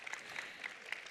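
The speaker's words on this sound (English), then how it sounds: "Yes, big applause to you both." Faint, distant audience applause at a European cooperation program launch event, a short patter of scattered clapping lasting about a second.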